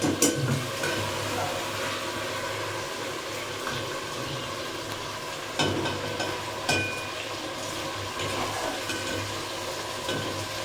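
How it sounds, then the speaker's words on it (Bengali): Rice frying in a pan after fish pieces have been lifted out, giving a steady soft sizzle with occasional stirring scrapes, close and moderately quiet throughout with no talking. "তুলে নিয়ে এবার আমি চালগুলোকে খুব করে ভাজবো"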